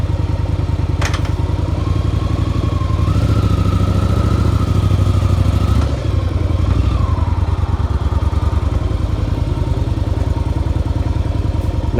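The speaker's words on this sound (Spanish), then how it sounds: "la moto sale muy bien, empuja," A Yamaha XV 750 motorcycle, a repaired bike with a previously misfiring cylinder, runs with a loud, close, steady engine rumble. The throttle rises and falls slightly partway through, and no talk is heard.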